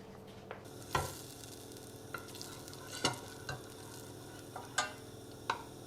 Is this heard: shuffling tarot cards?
no